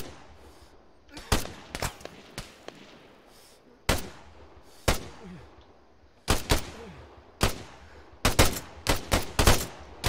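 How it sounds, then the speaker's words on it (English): Gunfire in Arma 3: sharp, loud shots crack out in irregular bursts and single reports, some in quick rapid clusters, over a low ambient rumble. "there's one guy left in the bunker that's shooting at the sandbags"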